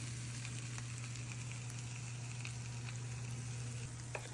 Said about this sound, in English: the sound that a steak makes when it's sizzling and cooking over the right amount of heat